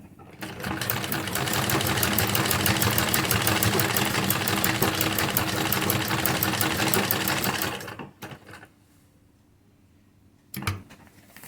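A sewing machine stitches a salwar hem in a fast, steady, loud rattling run for about eight seconds, then stops, leaving near silence and one brief knock.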